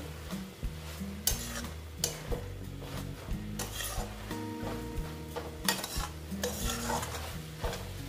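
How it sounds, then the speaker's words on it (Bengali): A spoon stirs sugar into a banana flower curry in a pan, making steady scraping and soft clinks over a quiet sizzle, with a faint tonal hum running underneath throughout. "চিনিটা দিয়ে অল্প নেড়ে নিচ্ছি"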